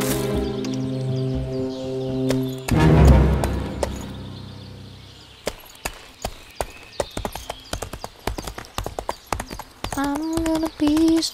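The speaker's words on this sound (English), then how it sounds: "Get on the horse." A horse's hooves clip-clop steadily in a rural hunting setting, the sharp, regular knocks close and clear after some voices and background noise at the start.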